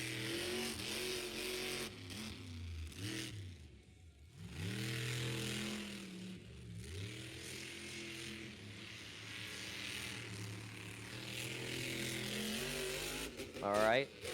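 A monster truck engine at a freestyle show in Wheatland, Missouri roars and revs repeatedly, its pitch rising and falling in waves, heard from a distance with a voice mixed in.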